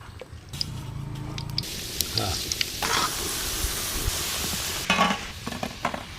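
Kalojam sweets frying in lightly heated oil, giving a steady close sizzle and crackle with a few stirring clinks and bursts throughout.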